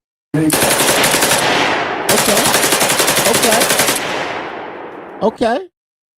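A gunshot sound effect: two long bursts of rapid automatic gunfire, loud and close, with a brief gap between them, followed by a couple of sharp trailing sounds.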